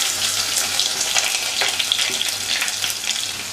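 Sliced shallots sauté in oil with spluttered mustard seeds over a low flame, a steady close sizzle with light crackles and stirring sounds.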